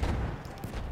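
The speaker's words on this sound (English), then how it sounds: "Lots of explosions going off here." Heavy explosions and gunfire in a Battlefield 1 competitive esports Frontlines match, a dense continuous barrage of booming blasts with sharp cracks layered throughout, loud and close.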